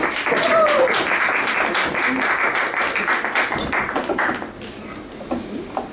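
An improv show audience claps for the players returning to the stage, a lively burst that is strongest early and gradually thins out toward the end.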